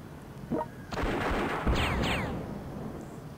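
Artillery barrage in the strategy war game World Conqueror 4, set in a North Africa campaign: a sharp boom followed by a louder burst of blasts and whistling shell streaks, fading into a rumbling tail, with no talk.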